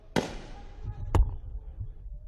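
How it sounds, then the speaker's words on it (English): Two sharp gunshot cracks about a second apart during a deadly protest in downtown Conakry, Guinea, echoing against a low background rumble. "Gunfire in downtown Conakry."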